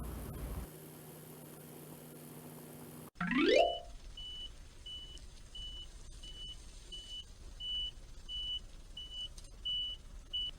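A dump truck crossing muddy land on thin wooden boards lets out a steady engine hum, then a rising mechanical whine, followed by a regular series of faint reversing beeps over low rumble.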